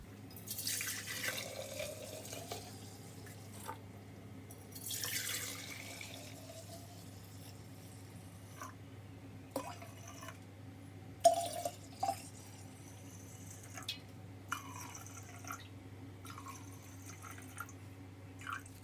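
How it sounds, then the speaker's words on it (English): Kombucha tea with a little starter liquid poured into jars, heard as faint intermittent splashing and trickling pours separated by pauses, with a low steady hum underneath. "And I'm going to fill up these jars."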